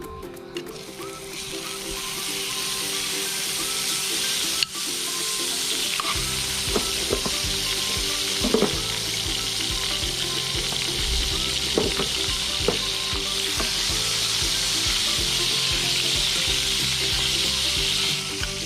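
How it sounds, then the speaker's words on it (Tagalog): Butter heating in a pan for buttered garlic shrimp, a steady close sizzle starting quietly and then filling in to a constant crackling fry that runs throughout with no voices. "So, papainitin lang muna natin tong butter natin."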